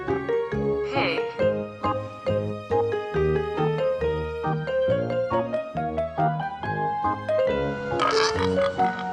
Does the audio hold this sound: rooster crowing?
no